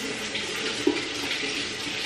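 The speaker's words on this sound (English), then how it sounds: "I need to rinse my fingers off." Steady tap water runs and splashes as fingers are rinsed beneath it at a sink, a close, continuous wash of sound with no pauses.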